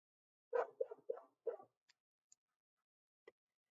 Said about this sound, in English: I can't believe her bark is that loud.